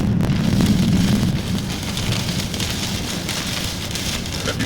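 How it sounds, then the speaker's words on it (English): Steady rain falls during tropical storm Debby, a constant broadband hiss of drops on surfaces, loudest at the start and then holding even, with no talk. "It was actually raining a little harder than this last night."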